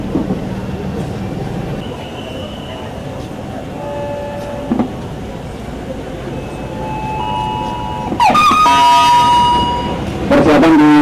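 A Jabodetabek commuter train rolls into a station track with a steady low rumble under a platform announcement, then loud screeching and squealing from wheels or brakes swells near the end.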